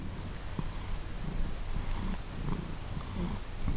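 A cat purrs close up in a steady, continuous rumble that pulses gently and stays alone with no talk.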